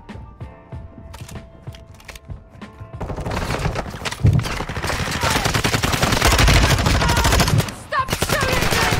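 Rapid machine-gun fire in Call of Duty Warzone on Ashika Island, sustained bursts that build and stay dense and loud, with game voice and effects mixed in.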